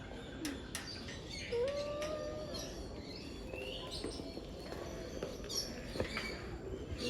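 Birds at Kuala Lumpur Bird Park make scattered chirps, whistles and cooing calls against a busy, faint background hum, some calls near and others farther off, without clear talk.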